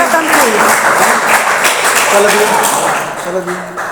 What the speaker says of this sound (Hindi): जोर से ताली बजाइए खुदा के लिए